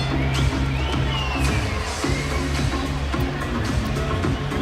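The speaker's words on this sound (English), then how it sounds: "Crowd with a smattering of boos." Boxing arena crowd at a light heavyweight title bout letting out a smattering of boos, a loud continuous roar of many voices sustained throughout with commentary-like talk layered over it.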